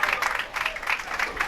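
Applause from a small crowd at a bowling alley during the Junior Gold Championships, greeting a strike; steady, moderately loud clapping over the 1.6 seconds with faint background chatter.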